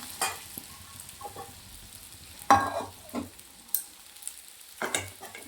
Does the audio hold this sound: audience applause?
no